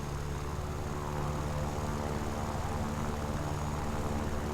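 Yak-9T fighter engine roaring at full throttle in War Thunder, a steady, loud, droning propeller hum with constant harmonic tones, sustained and unbroken throughout with no talk.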